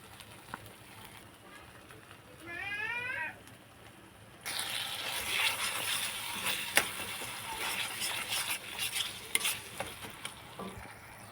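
Sour yogurt goes into a hot frying pan and is stirred through a sizzling potol dorma (stuffed pointed gourd) mixture. A brief quiet scrape comes first, then a loud, steady sizzle with scraping stir strokes for the rest of the clip.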